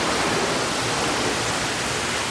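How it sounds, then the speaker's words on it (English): Hotel pool jacuzzi at a Kuala Lumpur resort running, a steady broadband rush of churning water like a small waterfall, loud and close, unchanging throughout with no voices. "this is the jacuzzi"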